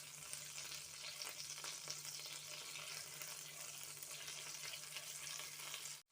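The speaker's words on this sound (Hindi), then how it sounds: "अच्छे से सॉटे कर लेंगे गार्लिक पेस्ट को।" Garlic paste sautéing in melted butter gives a steady, close sizzle that holds evenly throughout, with a faint low hum underneath and no voices.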